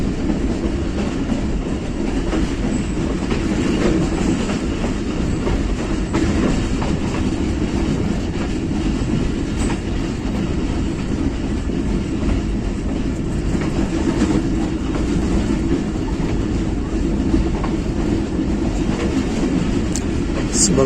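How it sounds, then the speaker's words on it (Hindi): The Millat Express passenger train arriving on a Pakistani mountain route on a cold morning, a loud continuous rumble with rhythmic clickety-clack of wheels that holds steady throughout. "ये आ गया सामने जनाब मिल्लत एक्सप्रेस, इस रूट से"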